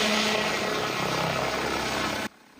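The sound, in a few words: army tactical drone taking off over the coast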